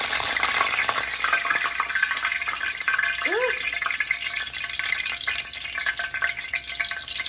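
Whole garlic and a sprig of thyme fry in very hot oil before snapper goes in, a steady loud sizzle and crackle running throughout, with a voice speaking over it.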